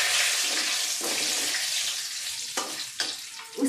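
Broken bay leaves dropped into hot oil over a high gas flame: a steady bright sizzle and hiss throughout, with a few soft clinks and stirring scrapes near the end, close and moderately loud, no talking.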